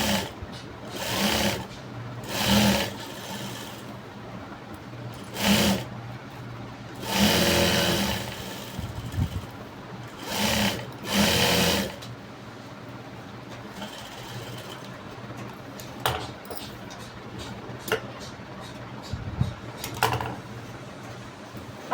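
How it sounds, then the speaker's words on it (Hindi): A sewing machine stitches blouse fabric in short, loud, rapid bursts separated by pauses, growing quieter with lighter, sporadic running toward the end. "अब हम इसको पलटी करके तीनों तरफ से सिलाई करके इसको अटैच करके ले लेंगे"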